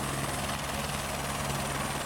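A small plane's loud, steady propeller engine drones up close during takeoff with a rhythmic pulsing chop, filling the whole moment with no voices.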